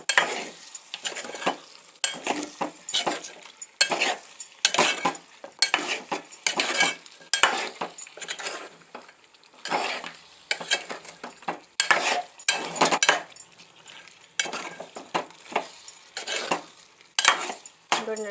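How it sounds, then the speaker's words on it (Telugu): A spoon scrapes and clanks against a pot while mutton curry is stirred, producing repeated close metallic knocks and scrapes in an irregular rhythm with a faint sizzle between strokes. "ఈ విధంగా కలుపుకున్నాను నేను మొత్తం కూర అంతా కూడా కలుపుకున్నాను."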